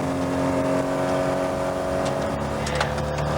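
A classic rally car's engine during the 1988 Pirelli Classic Marathon drones steadily from inside the cabin, a loud, sustained mechanical hum with road noise and no talking.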